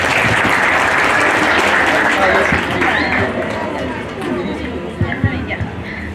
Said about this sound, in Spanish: Vamos a recibirla con fuerte voto de aplausos también a ella.